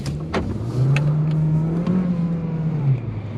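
A 2021 Volkswagen Golf hatchback with 147 horsepower accelerates in sport mode, its engine note rising steadily and droning close by for a couple of seconds, with a few faint clicks over the top.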